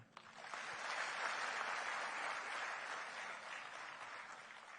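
Steady applause from an audience at a public event marking a district collector's birthday, a dense, sustained clapping that swells in the first second and holds level to the end, with no talk over it.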